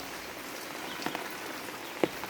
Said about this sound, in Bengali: উপর থেকে সব বৃষ্টি পড়ছে